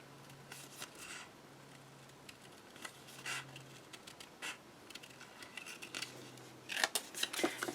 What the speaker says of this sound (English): And then I'm going to cut and follow along that curve.